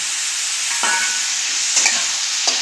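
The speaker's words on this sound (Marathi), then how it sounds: "नंतर काजू घालून घेऊया। आता आपण लसूण घालून घेऊया," Garlic and cashews sizzle steadily in hot oil in a pan for an egg butter masala, a constant bright frying hiss broken by a few soft stirring scrapes, close and alone.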